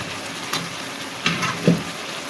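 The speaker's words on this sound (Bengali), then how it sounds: "এবার ডিমটা দিয়ে দিব।" Fried eggs go into a pan of sizzling bottle gourd. A steady soft frying hiss runs throughout, broken by a few brief clinks and stirring knocks.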